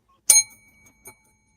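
A small hand bell is struck once sharply with a bright metallic ring that decays quickly, followed by a softer second tap about a second later, close and alone in an herb garden.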